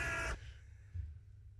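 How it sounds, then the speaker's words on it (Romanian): One loud, harsh caw from a crow in a city opens the moment, then fades into quiet outdoor background. "Nu, asta e cioară."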